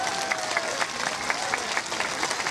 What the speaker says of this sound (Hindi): झुमा जी के लिए सब लोग ताली बजाइए